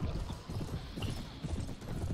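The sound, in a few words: horses galloping in Mount & Blade: Warband video game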